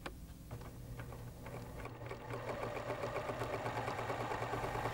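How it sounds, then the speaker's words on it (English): A Pfaff sewing machine, one of the 2014, 2022 or 2024 models, running a zigzag stitch through woven medium-weight fabric. The mechanism keeps up a steady close rhythmic whir and clatter that grows louder and quicker after the first couple of seconds. "Using a woven, medium-weight fabric, sew the zigzag stitch"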